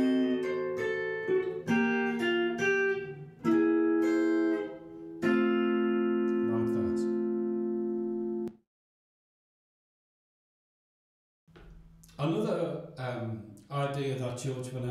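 A guitar plays a sequence of ringing chords, including a sixth interval and an augmented chord, in a chord-melody style. Each strum sustains and fades before an abrupt cutoff and a pause, then another burst of plucked chords follows. No one speaks.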